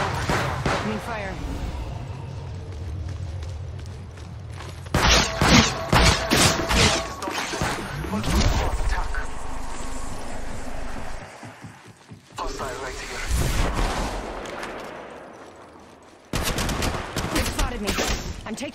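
Gunfire in the battle royale game Apex Legends Mobile: bursts of rapid automatic shots and single cracks come in several loud volleys separated by brief lulls, with occasional spoken callouts between them.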